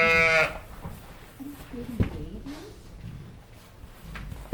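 Border Leicester and merino sheep on a fiber farm give a loud harmonic bleat at the very start, then low rustling and scattered farm noise follow while a person talks nearby.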